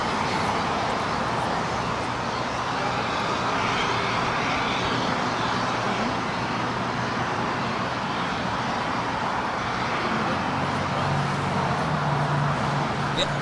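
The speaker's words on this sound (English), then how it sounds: "American 2880, LA Tower, good afternoon, wind 250 at 13, runway 25 left, clear to land" An American Airlines plane lands on runway 25 left at LAX, heard as a steady, moderately distant broadband jet roar with faint traffic-like rumble, continuous and unchanging throughout.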